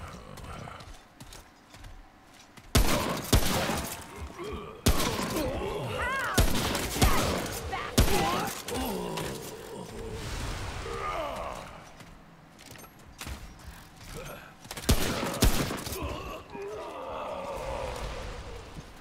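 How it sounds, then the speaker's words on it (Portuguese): Loud bursts of gunfire from the video game Remnant: From the Ashes, several sharp volleys spread across the clip with rumbling mechanical and ambient noise between them. "Três tiros."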